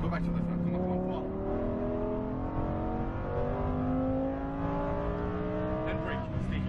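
A Lamborghini Huracan Performante engine revs hard and climbs through rising pitch sweeps on a race track, loud and continuous from inside the car, with a voice faintly underneath.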